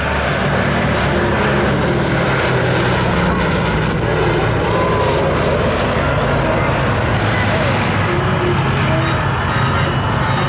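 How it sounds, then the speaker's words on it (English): A B-17 Flying Fortress propeller bomber rumbles past at an air show in Michigan, a dense, steady roar of engines filling the air with no clear voices over it. "Ladies and gentlemen, the B17, the Flying Fortress."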